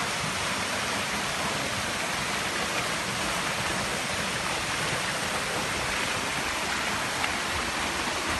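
Hot spring water bubbling up and flowing at Golden Falls in Grenada, a steady, loud, unbroken rush of water with no voices.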